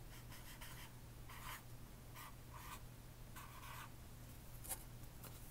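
Pen or pencil scratching as a word is handwritten, several short bursts of scratchy strokes with brief pauses between them, close and quiet against a faint background hum.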